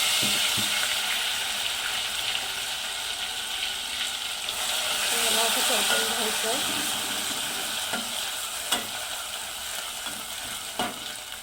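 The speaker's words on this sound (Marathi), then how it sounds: "तर आता हे टाकायचं आहे फोडणीला।" Coriander, garlic and ginger paste hits hot oil in a tempering for rohu fish curry, giving a loud, steady frying hiss through the whole stretch with a few sharp clicks of stirring.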